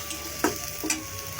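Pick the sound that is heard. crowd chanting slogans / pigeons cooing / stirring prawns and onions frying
stirring prawns and onions frying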